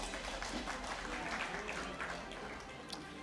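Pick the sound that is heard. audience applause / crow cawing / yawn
audience applause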